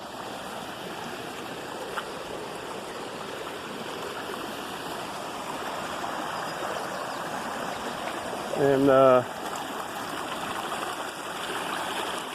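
Rainwater rushes in a steady, loud flow down a normally dry garden ditch, like a small stream, while a voice speaks briefly in the middle.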